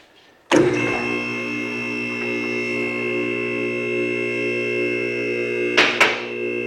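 A car lift in a garage starts with a sharp thunk, then an electric motor gives a steady, even hum as the lift rises, with a couple of clanks near the end.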